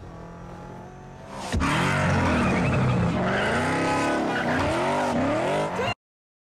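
Car in the racing game Need for Speed (2014) skids with a loud, sustained tire squeal and roaring engine, the screech wavering and bending in pitch for several seconds before cutting off abruptly.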